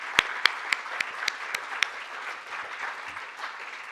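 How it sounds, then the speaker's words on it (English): An audience at a glaucoma patient summit breaks into applause, beginning with a few sharp, distinct claps that swell into a steady, moderately loud wash of clapping from the whole room. "let's give a round of applause."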